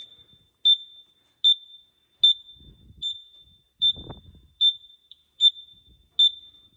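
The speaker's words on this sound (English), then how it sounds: "Quit beeping like a bomb. Microwave is done." A high electronic beep repeating steadily, about eight short tones evenly spaced, with a brief low rumble partway through.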